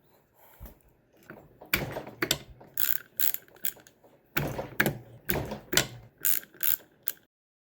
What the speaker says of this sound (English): To start off, we need to take off the 4 bolts here right in front.